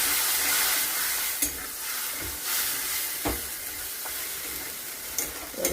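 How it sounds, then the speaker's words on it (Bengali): Spiced paste with roasted cumin powder is poured over water spinach (kalmi greens) sizzling in a pan, a loud hissing fry close by, punctuated by a few scraping knocks of a spoon, no voices. "এবার এটাকে আমি পুরোটা এর উপরে ঢেলে দিচ্ছি"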